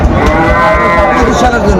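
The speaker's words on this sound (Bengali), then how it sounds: "বেশ সুন্দর গরুগুলো" A cow lowing at a busy cattle market, one long loud moo held close by for nearly two seconds over faint background bustle.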